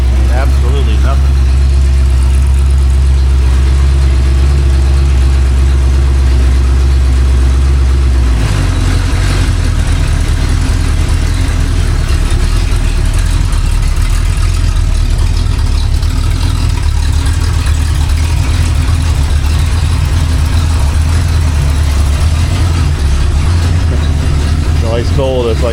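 A rebuilt Ford 289 V8 mounted on a homemade engine stand idles steadily at a low, even rumble, with a slight drop in tone partway through and a person talking over it.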